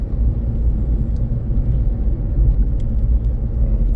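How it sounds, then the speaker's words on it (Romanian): A truck towing a trailer drives past at close range, a loud continuous low rumble that holds steady throughout with no voices. "Un camion și cu o remorcă."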